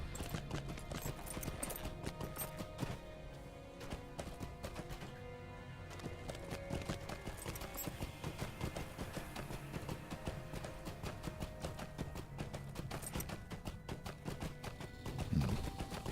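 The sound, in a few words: riding goat mount hooves in Lord of the Rings Online video game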